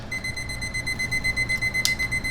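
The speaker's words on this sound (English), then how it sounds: "Hit it on the timer." A digital timer in a home kitchen sounds a rapid, pulsing electronic beep, repeated in quick evenly spaced bursts, clear and close throughout with a faint low hum underneath.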